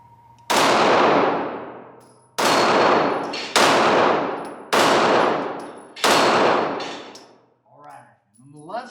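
Five loud Glock pistol shots are fired outdoors at a tree, spaced about a second apart, each one a sharp crack with a long ringing echo. A faint voice follows at the end.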